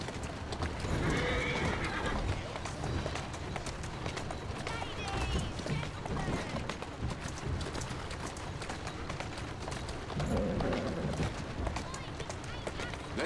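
A horse gallops with rapid clip-clop hoofbeats and occasional whinnies in the Assassin's Creed Syndicate video game, with a voice talking over the steady running.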